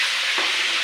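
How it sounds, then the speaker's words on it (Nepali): Vegetables cook in a pan with a loud, steady, close sizzle that holds for under a second, with no voices. "भाउजू चाहिँ तरकारी पकाउँदै हुनुहुन्छ"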